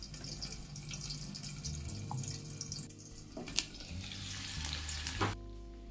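Potatoes and flat beans fry in a pan for a cauliflower-stalk chochchori, a steady soft sizzle running throughout with occasional stirring clinks and a sharp scrape near the end.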